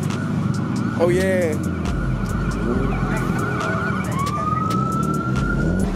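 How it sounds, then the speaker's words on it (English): An ambulance siren wails close by over heavy traffic noise, its pitch sweeping up and down, with a brief voice speaking. "Oh no, that's an ambulance."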